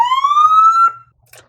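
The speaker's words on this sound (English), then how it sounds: "It's going to be brutally loud because I'm in an enclosed space indoors and I'm standing about 2 feet away from the speaker." A siren played through a loudspeaker about two feet away in an enclosed indoor space gives one very loud rising electronic wail lasting about a second. It cuts off sharply, and a faint short rustle follows.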